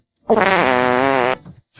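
A loud, close fart rings out as one sustained, buzzy blast lasting about a second, followed by a faint trailing sputter.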